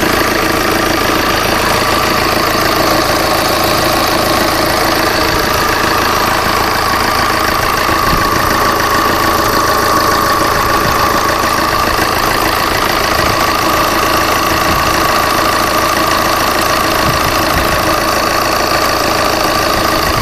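A Tata Indigo car engine idles steadily, a continuous even rumble with a slight knocking texture, heard close and alone without any talk.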